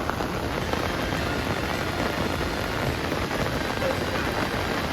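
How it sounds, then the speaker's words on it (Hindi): Heavy torrential rain pours down at the riverside ghats of Haridwar in a dense, unbroken roar of drops hitting the surfaces. It is loud and steady throughout, with no voices. "बारिश बिल्कुल नॉन स्टॉप बहुत तेज़ हो चुकी है।"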